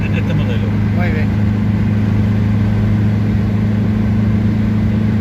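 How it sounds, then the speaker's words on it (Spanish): Renault 8 car engine running, a steady loud low hum with a constant drone and no revving, heard from close by with faint background sounds. "viajar en este coche es un placer oír el motor, porque el motor suena rotundo y sonoro"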